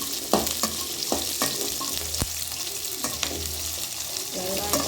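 Oil sizzling and frying in a pan while tomato coriander chutney cooks with onion, coriander and chilli, with a steady crackle broken by occasional stirring scrapes and taps.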